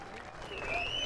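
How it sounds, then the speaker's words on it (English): A crowd at a flat track motorcycle race applauds a rider, a brief burst of distant, steady clapping that swells slightly, with a faint whistle or tone above it. "Give a big round of applause for Hunter"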